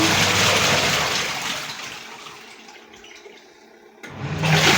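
Rushing water fills a washing machine for its rinse cycle, a loud hiss that gradually fades and then surges again near the end, with no voices.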